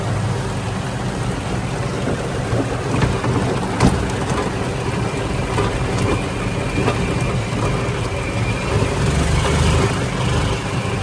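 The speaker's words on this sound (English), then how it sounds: "The rain just came out of nowhere." Steady rain falls in a sudden downpour, a dense continuous hiss with occasional sharper drops and no voices.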